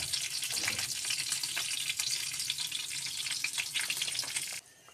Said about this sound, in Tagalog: Antayin lang natin kumulo.